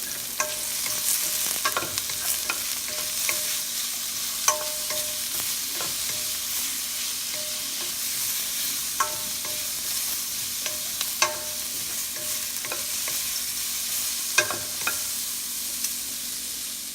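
Garlic sizzles steadily in a hot pan for chicken tamarind soup, with a constant frying hiss broken by frequent light clinks and scrapes of stirring, close and without talk.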